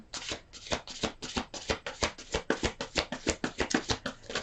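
Tarot cards are shuffled in quick, rhythmic riffles, a rapid series of crisp flutters close up with no voices.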